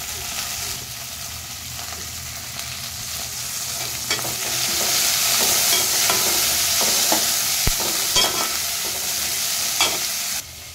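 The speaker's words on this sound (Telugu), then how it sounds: "పచ్చిమిర్చి అయితే ఫ్రై అవుతున్నాయి" Green chillies and curry leaves fry in hot oil in a pan, a steady close sizzle that swells louder partway through, with scattered stirring scrapes and clicks, and no voices.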